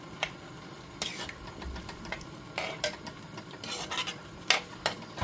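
A spoon scrapes and clinks against a metal pot in irregular strokes, stirring coconut paste into chayote kootu, over a low steady hum, fairly close.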